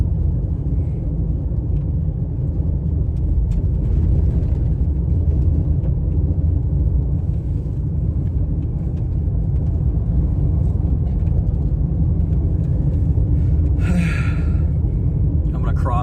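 A storm-chasing vehicle drives a rough gravel road during a tornado-warned supercell in Minnesota, giving a steady, close low rumble of tires and engine throughout, with no talk.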